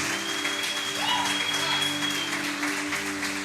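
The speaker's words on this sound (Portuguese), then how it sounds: "Se você crê nisso, aplauda Jesus." A church congregation applauds steadily throughout, a continuous wash of clapping with a sustained musical tone beneath it.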